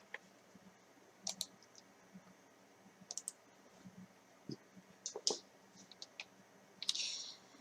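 A computer mouse clicks to open File Explorer, with a series of small, faint, crisp clicks scattered irregularly across a quiet room and a slightly louder click near the end.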